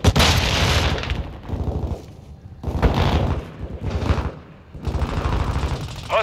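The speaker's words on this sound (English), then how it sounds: "Throwing flash grenade!" Bursts of gunfire and booming blasts from a flash grenade in Call of Duty Modern Warfare 2, an Invasion match on the Sa'id map, loud and close, coming in several heavy surges separated by brief lulls.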